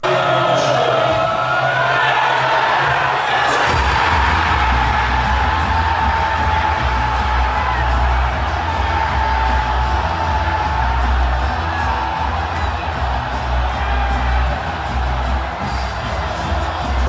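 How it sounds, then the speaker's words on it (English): A crowd packed into an English pub erupts after a World Cup goal, a sudden loud roar of cheers, whoops and yells that swells after a few seconds and stays dense and close to the end. "This is what every pub in England looks like when they score in the World Cup."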